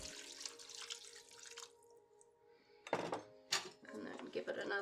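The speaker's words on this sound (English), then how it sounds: "Now I'm going to add the sauce we made with the non-alcoholic wine and the lemons" Non-alcoholic wine and lemon sauce pours into a cooking pan with a soft, steady watery splash for about two seconds, followed by a few sharper clatters of utensils against the pan.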